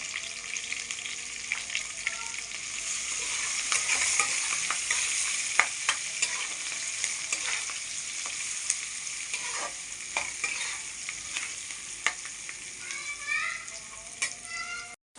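Onions and green chillies frying with turmeric in a pan, a steady bright sizzle broken by frequent spatula scrapes and stirring clicks, close up, with faint background voices near the end.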